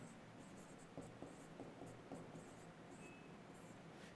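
Pen writing out an answer by hand during a class 9 maths lesson, a soft steady scratching with short bursts of strokes, close and quiet, with no talk over it.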